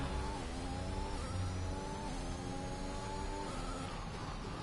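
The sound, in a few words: McLaren F1 car engine on racetrack, from video game F1 2021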